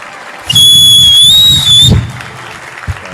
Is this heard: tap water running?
no